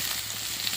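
Soaked, drained chowmein noodles hit a hot pan of fried street-style ingredients and sizzle in a steady, close, fairly loud hiss that holds for the whole short moment with no talk over it.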